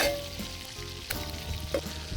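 French toast frying in a pan at a campsite, a steady close sizzle with a few louder crackles and spatters, no one talking.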